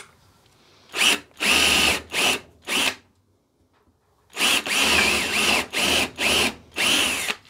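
A Ryobi 18V cordless drill bores with a 10 mm bit: two groups of loud, close whirring bursts, four short runs, a pause, then five more in quick succession, with no talking.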